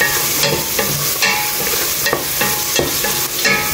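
A spoon stirs turmeric powder into khichdi in a pan, with rhythmic scraping strokes about every 0.8 seconds over a steady sizzle. The sound is close and fairly loud, and no one speaks.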